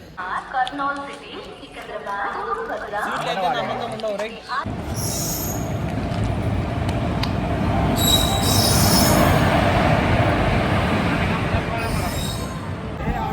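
A crowded local train's wheels squeal and rumble on the rails, loud and close, in a sustained metallic roar that follows a few seconds of people talking.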